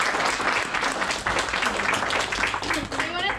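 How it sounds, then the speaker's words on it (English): Steady, loud applause and clapping fill a crowd gathered for a salon grand opening in Yorktown, Virginia, sustained throughout without a break. "Let's give them a big round of applause."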